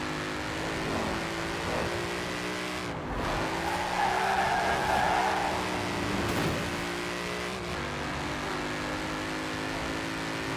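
A sports car in the Forza Horizon 4 racing game accelerates hard with its tires squealing from wheel spin. The engine drones loud and steady throughout, with no speech.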